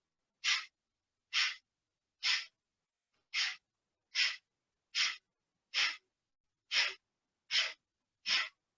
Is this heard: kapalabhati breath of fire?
yes